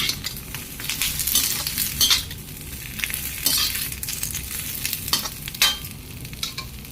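Jackfruit frying and being stirred in a pan in a home kitchen, a steady close sizzle with scraping stirs and light metallic clinks, no voices.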